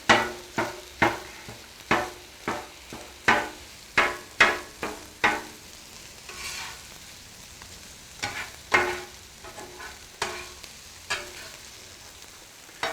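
Breakfast sausage cooking on a Blackstone griddle: a soft background sizzle broken by a series of sharp, clattering taps and scrapes that come in quick runs, then more sparsely, with no talking.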